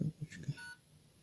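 Keypad tones from a Nokia 5310 XpressMusic phone, three short close beeps in quick succession followed by a fainter sustained tone.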